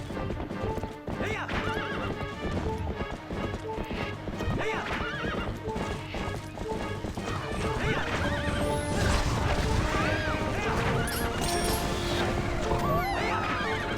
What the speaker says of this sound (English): the horse is running in circles. Looks like it's startled by the bombs